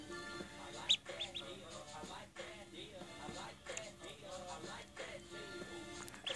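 Small ducklings kept indoors peep and chatter in a busy, continuous flurry of short calls, fairly faint, with background sounds underneath.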